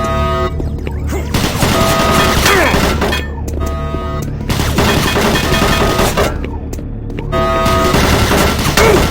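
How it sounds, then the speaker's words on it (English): Automated turret guns in Doom 3 blasting in long sustained bursts, loud and close, with metallic ringing tones and brief gaps between volleys, under a game soundtrack. "Warning, automated turret guns online."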